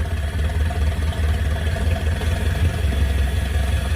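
Old scrapyard car engine idling steadily after its first start in 35 years, a low continuous rumble with light clatter, close and unbroken throughout.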